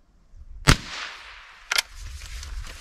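Two sharp .22 Long Rifle gunshots fired over a chronograph, each a loud close crack followed by a brief ringing decay, about a second apart, with a low background rumble and no talking.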